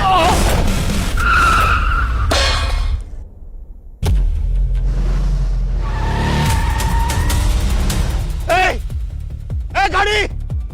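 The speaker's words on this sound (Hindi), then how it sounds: "अंकल गाड़ी आ रही है" A car rumbles near and its tires skid and squeal in a street drama, heavy engine noise throughout, while people shout and talk over it.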